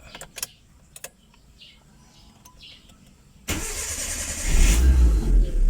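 A Mitsubishi Lancer with a 4G13/4G15 engine starts: a few faint clicks, then the starter cranks and the engine catches, settling into a loud, steady rumbling idle close by.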